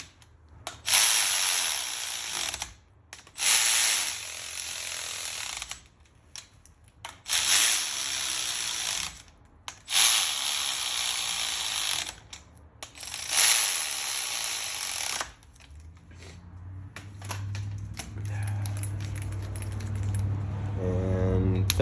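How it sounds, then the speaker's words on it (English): A torque wrench ratchets in repeated long bursts while tightening cylinder head nuts on an engine being built into a long block, each ratcheting run separated by brief pauses, with a short mechanical tail at the end. "suck all these nuts down, and then torque to 30"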